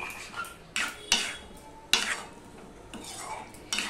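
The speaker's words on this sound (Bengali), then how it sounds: "এটা কিন্তু মাঝে মাঝে এভাবে নাড়তে হবে" A spoon stirs okra curry in a pan, with several sharp scraping and clinking strokes against the metal, spaced irregularly, close and fairly quiet.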